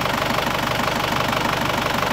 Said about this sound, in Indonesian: suara engine oke, rata yo.